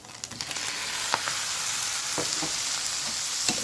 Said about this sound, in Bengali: সামান্য করে পাস্তাটা সেদ্ধ করা পাস্তাটা দিয়ে দেবো